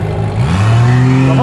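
A grey Honda car revs as it pulls away from a car show, its engine note climbing quickly and loudly nearby while someone talks over it.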